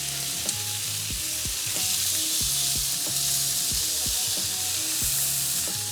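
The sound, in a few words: bacon and sausage patties sizzling while frying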